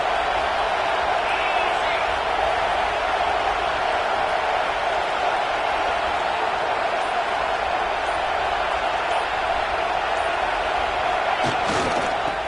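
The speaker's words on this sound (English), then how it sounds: "Listen to the crowd energy here in the early going." A stadium crowd at a Michigan vs Notre Dame football game roars in a dense, sustained wall of cheering and noise, loud and continuous throughout, with faint voices mixed into the din.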